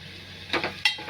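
Ground masala paste for chicken rassa roasts in oil with a low sizzle, interrupted by two short scraping stir strokes against the pan, close by with no voices.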